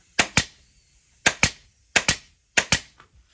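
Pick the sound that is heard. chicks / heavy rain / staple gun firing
staple gun firing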